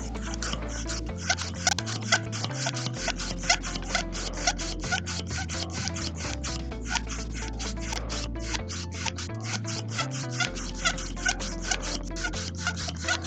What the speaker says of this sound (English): that repeated squeak is the air thingy for the exercise ball